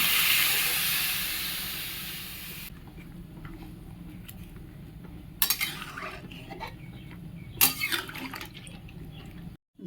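Water is poured onto spiced vegetables in a hot pan, first a loud steamy hiss, then quieter bubbling with a few clinks and scrapes of a spoon against the pan.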